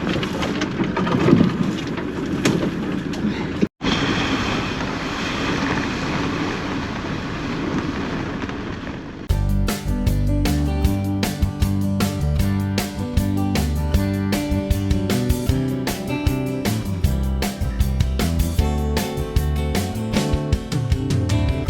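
Steady rain hissing close by in the Carpathians of Transylvania, Romania, with a brief break and then a denser rhythmic rumbling texture taking over; no talking.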